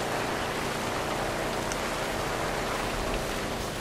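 Steady rain in the GTA 5 video game during a dirt track race, a constant broadband hiss with no clear gaps, loud and continuous without speech.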